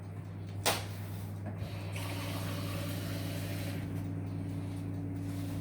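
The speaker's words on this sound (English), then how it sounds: "I'll just add a little bit of water to that just to give it make it a bit more soupy" Water poured from a container into a pot of healthy curry in a home kitchen gives a soft, steady pour that runs several seconds over a constant low hum, with a brief clunk near the start.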